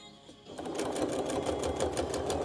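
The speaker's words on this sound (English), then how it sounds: "I have my machine set, so it's going to create a tiny knot when I start my line of stitching" A home sewing machine stitches through a quilt, the needle moving up and down in place to tie a tiny knot at the start of a line. A quiet pause, then a steady, fast mechanical whir with even rhythmic clicks, close and continuous.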